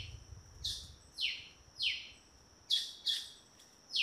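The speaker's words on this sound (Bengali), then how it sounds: "শুনলাম অনেক রকম পাখির ডাক।" Birds call in a forest on a trek at Munda Pahar in the Andaman Islands: about six clear, high, down-sweeping chirps come in uneven bursts against a quiet background.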